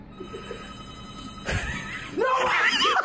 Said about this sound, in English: Gonna go answer the phone.